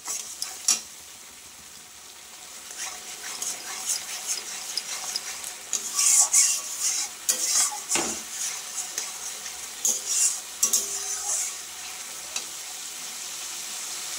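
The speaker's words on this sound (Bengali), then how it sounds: "নুন আর হলুদটা দিয়ে আমি আরেকটু কষিয়ে নেব" Fish curry masala sautéing with salt and turmeric in a pan makes a continuous sizzle, broken by repeated spatula scrapes and clinks against the metal, close and moderately loud.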